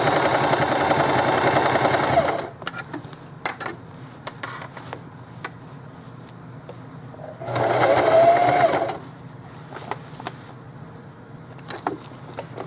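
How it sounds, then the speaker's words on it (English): A sewing machine runs in two bursts, each about two seconds long, stitching rough rows onto a pair of jeans. It whirs loud and close, with quiet handling noises in the gap between bursts. "So I'm going to just do like maybe 3 or 4 rough, messy stitches on here."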